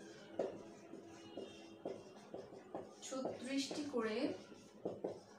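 A pen writes an answer on paper during a class 3 math lesson, with short scratchy strokes under a woman's steady speech.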